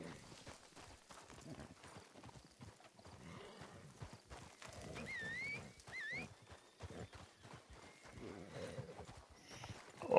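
Horse hooves clip-clop steadily through the game Red Dead Redemption 2, with a couple of brief whinny-like calls partway through and faint game sounds underneath; no one talks over it.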